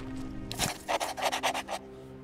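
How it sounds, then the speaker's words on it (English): A small dog pants in the video game Terminator: Resistance, a quick rhythmic run of raspy breaths lasting about a second over a low background hum. "I hear a little dog over there panting"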